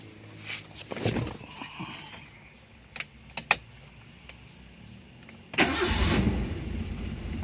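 Mazda Vantrend car engine starting: keys jingle and click several times, a brief cranking, then the engine catches and settles into a steady, moderately loud idle.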